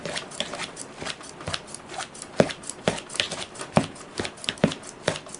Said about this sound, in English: take my handy dandy scissors and I'm going to cut it up just like so